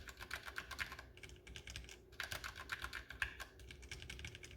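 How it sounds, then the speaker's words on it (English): Rapid typing on a Ducky One 3 Mini mechanical keyboard with Cherry MX Red switches, quiet, close clicks in two dense bursts separated by a brief pause. "Cherry MX switches in this definitely sound a little bit more of what you would expect a Cherry MX Red switch to sound like"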